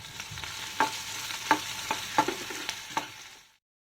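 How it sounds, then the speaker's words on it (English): Onions fry in a pan with ginger garlic paste, a soft sizzle broken by several clinking stirs of a spoon against the pan, close and fairly quiet. "Onion is getting fried."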